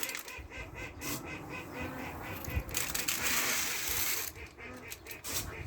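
A crowd of farm ducks quacking steadily and loudly in the morning, overlapping calls with bursts that swell and fade, no clear talk.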